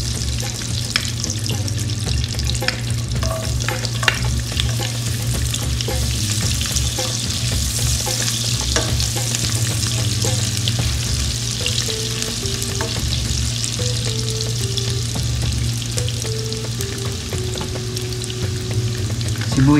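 Garlic frying in a pan for tom yum or sopas, a steady dense sizzle with crackling that runs unbroken at a fairly loud level, with occasional stirring scrapes over a low constant hum.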